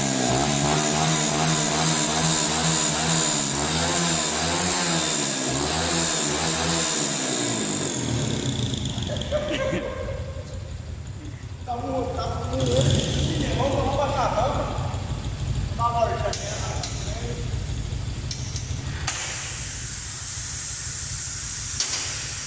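A Honda Biz 150cc motorcycle engine running on ethanol revs up and down repeatedly at close range, then settles into a steady, hissy running sound while people talk over it.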